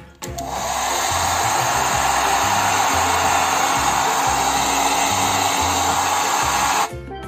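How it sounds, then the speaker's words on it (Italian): A hair dryer blows a steady, loud whooshing roar for several seconds while drying hair, switching on at the start and cutting off near the end. "asciughiamo i capelli con il phon."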